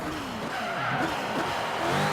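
A Hennessey Venom GT brakes hard in Forza Horizon 3, its tires squealing and skidding with a sliding, wavering screech over steady engine and road noise, continuous and fairly loud.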